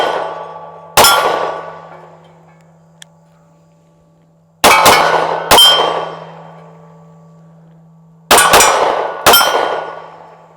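Three rapid bursts of 9mm shots from a ported Smith & Wesson M&P Shield Performance Center pistol, loud and sharp with ringing decay, follow a single opening shot. No speech is heard.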